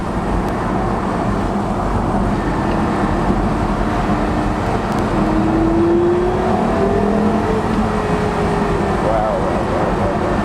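Loud, sustained engine roar and revving from a Porsche Carrera GT heard from inside the car, a steady droning wall of sound with rising pitch sweeps midway.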